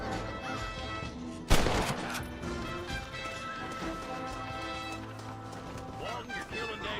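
One sharp gunshot rings out in the Western video game Red Dead Redemption, followed by hoofbeats and game music, while a voice talks over the action.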